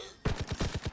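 Rapid burst of gunfire in the video game Call of Duty: WWII, about six sharp shots in quick rhythmic succession, loud and close, starting abruptly after a brief quiet moment.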